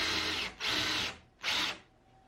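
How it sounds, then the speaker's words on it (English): Power drill driving a bit straight through the middle of a part for a camera gantry build, two sustained whirring bursts of about half a second each with a short pause between, close and loud. "So I'm just going to be using that size drill bit to go straight through the middle here."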